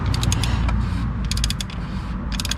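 A part of a 3.6L Jeep Wrangler (2012–2018) is loosened during an oil change, making loud, close ratcheting creaks in quick clicking bursts over a steady grinding mechanical background.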